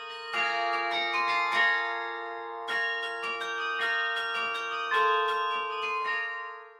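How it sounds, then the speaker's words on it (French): A church bell resonating in a village, struck repeatedly with rich, lingering ringing tones that overlap and sustain, loud and close, with no voices. "Lorsque on met en résonance une cloche, c'est un moment effectivement spécial."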